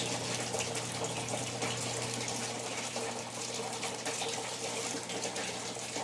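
A Whirlpool washing machine in diagnostic mode drains its water with a steady, continuous gushing rush over a low pump hum, fairly loud and unbroken throughout.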